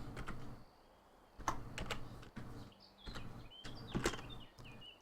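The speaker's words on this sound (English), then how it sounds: "let's type in small" Rapid clusters of computer keyboard keystrokes clatter close by in irregular bursts, with a short pause between runs, as a recipe search is entered in the game Wurm Unlimited.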